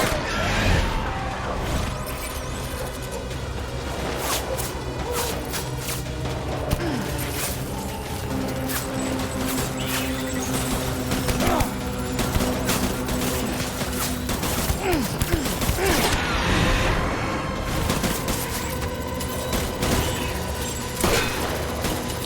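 Sustained gunfire fills a Death Stranding firefight, a dense, continuous barrage of overlapping shots and booms heard close and loud, with mechanical clatter mixed in and no pauses.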